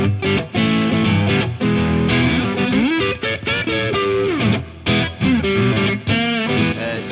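Distorted electric guitar through Radioshop Crispback pickups, loud and close, playing a busy riff of sustained chords and bending single notes with short choppy pauses, no voices.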